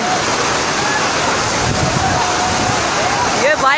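Fast floodwater rushes through a flooded Karachi street strong enough to sweep away motorbikes and people, making a continuous loud roar and churn with a voice heard over it.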